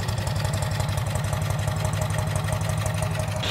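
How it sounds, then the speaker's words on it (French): A DAF two-cylinder car engine idles steadily with a heavy, rapid low thump, sounding like a diesel tractor, close and continuous for the whole stretch. "on dirait vraiment un moteur diesel, on dirait un tracteur le truc"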